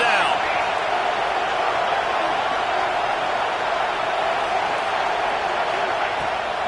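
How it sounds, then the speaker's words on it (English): A football stadium crowd roars steadily on third down as the defense is urged on, a broad, loud wash of noise that holds for several seconds without a break. "Decibels rising as the crowd gets behind this defense on 3rd down"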